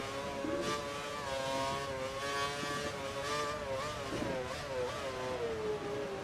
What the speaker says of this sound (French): c'est le moteur qui est bizarre, le bruit du moteur